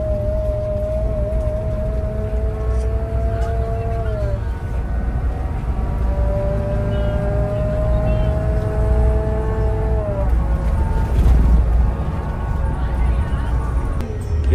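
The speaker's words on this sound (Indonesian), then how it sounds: "Asli ini suaranya ngung, lebih kerasa banget sih. Mesin di sini, gardan di sini." A steady low bus engine drone fills the rear interior throughout, with a rising and falling differential whine on top, loud and continuous.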